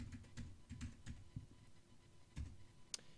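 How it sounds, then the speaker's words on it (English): Typing a sheet set command into mapping software on a computer keyboard: faint, close key taps in irregular small groups with pauses, and a sharp click near the end, no speech. "right now what we can do is just type in sheet set"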